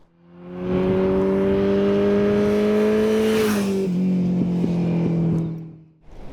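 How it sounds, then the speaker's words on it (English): A Kawasaki Ninja 125 motorcycle engine hums steadily while riding, its revs climbing slightly and then easing off as the pitch steps down, loud and close, before fading out. "I'm out riding on my wife's Kawasaki Ninja 125"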